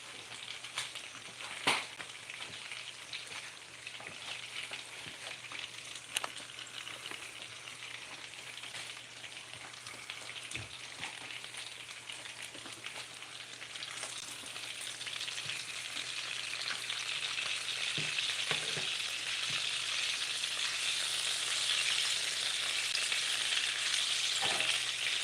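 Sausages fry in a pan with a continuous, close sizzle and crackle that gradually grows louder and more intense.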